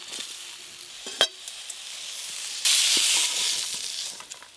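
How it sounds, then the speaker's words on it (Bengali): Pointed gourd (potol) fries in a pan with a steady broadband sizzle, a sharp clack of a spatula near the start, and a louder surge of hissing midway that gradually eases off. "এই দেখুন পটলগুলো বেশ ভালো করে ভাজা ভাজা হয়ে গেছে"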